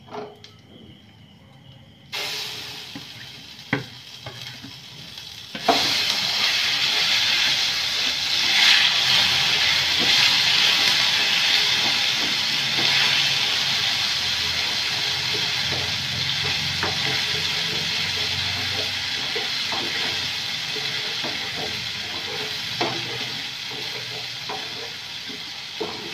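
Spice paste sizzles and hisses steadily in a hot pan while being stirred, with scraping ticks over a continuous loud frying hiss; cooking ilish fish masala.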